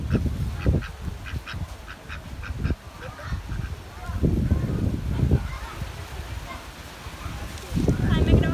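Ducks and geese honking and quacking at a petting zoo, repeated calls close by with people talking over them throughout.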